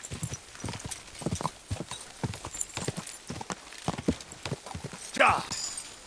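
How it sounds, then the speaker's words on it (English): Horse hooves clip-clop in a steady walking rhythm in the Kingdom Come video game, close and moderately loud, with a brief whinny near the end and someone speaking over it. "My, what a beautiful horse."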